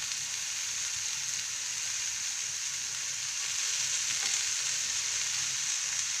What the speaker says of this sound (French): Pendant que vos steaks cuisent, vous pouvez mettre du bacon à frire.